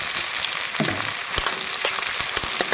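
Onions sizzle in hot oil for a mixed vegetable curry, a steady bright frying hiss with a few sharp pops and spoon clinks, close and without talk.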